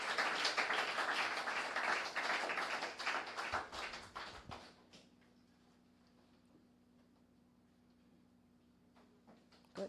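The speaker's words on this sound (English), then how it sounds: "let's give the champion for this year's debate a big round of applause" Audience applause after a debate champion is announced at a judiciary-hosted national debate, a dense burst of clapping for about four seconds that then drops away to a quiet room with a steady hum.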